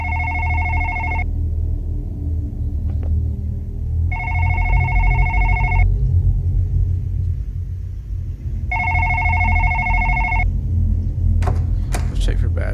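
A telephone bell rings in a video game set during a late-night emergency blackout, three long electronic trills separated by pauses over a steady low rumble, followed by a few sharp clicks.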